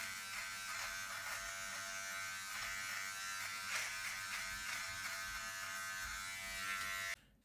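Close, steady buzzing of a Remington PG6021 all-in-one grooming kit electric trimmer cutting hair, running continuously alone for about seven seconds before switching off abruptly.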